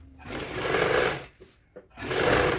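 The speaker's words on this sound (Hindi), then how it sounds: "फिर किनारे पर बिल्कुल ही फिनिशिंग के साथ कपड़े पर आपको सिलाई लगानी है यहाँ पे।" Sewing machine stitching piping onto a kurti, two bursts of fast mechanical whirring about a second long each, separated by a short pause with a couple of faint clicks, close and loud.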